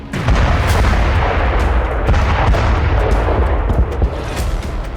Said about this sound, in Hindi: आर्म्ड व्हीकल की जगह सिर्फ आर्टिलरी का इस्तेमाल कर रही है।